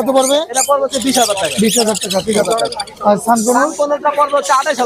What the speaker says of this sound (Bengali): এখানে আরো পাখি আছে অনেক পাখি আছে